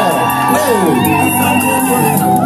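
A loud crowd at a 30th wedding anniversary celebration in Liège, Belgium, whooping, shouting and cheering together, with bright overlapping voices and no pause, close and energetic throughout.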